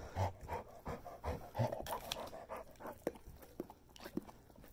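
A dog pants in quick, rhythmic bursts close to the microphone, its breaths steady and fairly loud with no talking.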